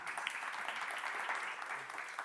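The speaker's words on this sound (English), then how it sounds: "Round of applause." Steady applause from a conference audience at Re:Think Materials Europe 2019, a dense wash of clapping that holds at an even level for a couple of seconds.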